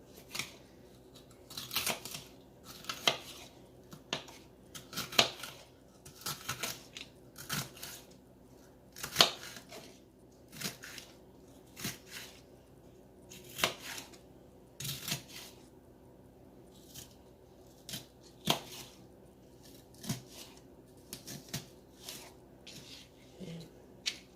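Peppers being cut on a board for keto hamburger soup, giving a steady series of separate knife chops and slicing clicks, close and fairly crisp, with brief pauses between cuts and no talking.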